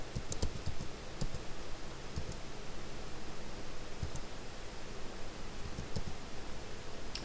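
Keystrokes on a computer keyboard while entering an SQL GROUP BY query, scattered soft clicks in small irregular bursts over a steady hiss of background noise, with no voices.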